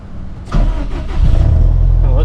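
A Subaru STI with a big turbo cranks briefly and fires up loudly, then settles into a deep, steady rumbling idle close by.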